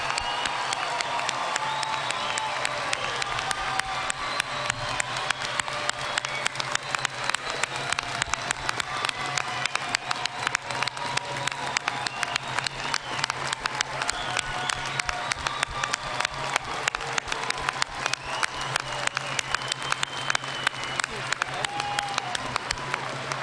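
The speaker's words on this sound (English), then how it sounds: "please join me in a round of applause to recognize the graduates" A commencement audience gives graduates sustained applause, a dense, even clapping that fills the hall and continues steadily from start to finish with some faint cheering mixed in.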